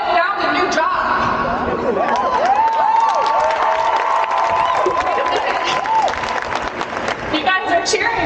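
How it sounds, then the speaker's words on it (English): A large crowd at a nurses' march cheers and applauds continuously, a loud dense roar of clapping and shouting with whoops rising throughout. "You guys are cheering"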